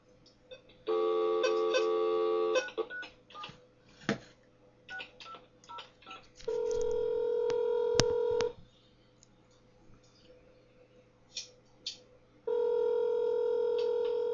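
Telephone dialing tones on a church phone call: three long, loud steady tone blocks separated by quieter stretches with scattered short beeps and clicks.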